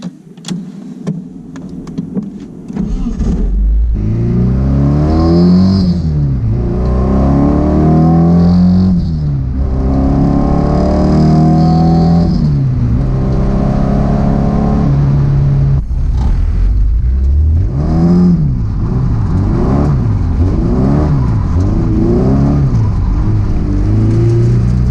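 A car on a test drive after diagnosing fuel issues accelerates repeatedly through the gears, engine pitch climbing and dropping in waves; heard from inside, loud and sustained, with no talk.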